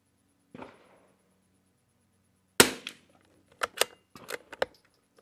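A Lithgow LA101 rifle loaded with Lapua CenterX ammunition fires one sharp, loud report outdoors. A string of quick metallic clicks follows, with near silence before and between.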